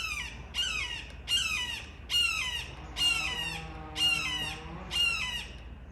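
A bird squawks loudly and repeatedly, about seven harsh, piercing calls evenly spaced roughly a second apart, close by.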